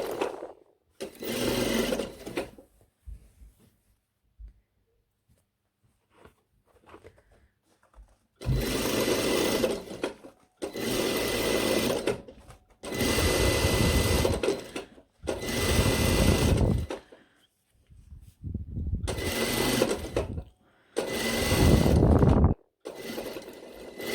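A sewing machine runs in repeated bursts while stitching a seam on a blazer with a 1 cm allowance, each run of several seconds separated by quiet pauses as the fabric is repositioned.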